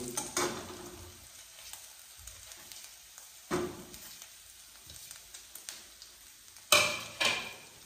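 Kashmiri chili and curry powder fry in a pan on a low flame, giving a soft steady sizzle, while a spoon scrapes and clinks against the metal now and then as it stirs.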